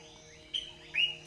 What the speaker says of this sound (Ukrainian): це голоси птахів